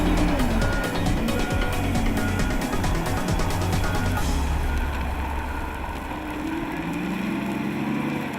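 A wheel loader on Michelin radial tires loading dump trucks, its diesel engine droning loud and steady with low rumbling, clattering bucket and machinery noise, and a brief high ticking rattle early on.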